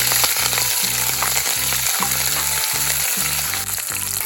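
Green chillies and garlic frying in hot oil for Kerala-style lemon pickle, giving a loud, continuous sizzle that never lets up, with a rhythmic beat running underneath.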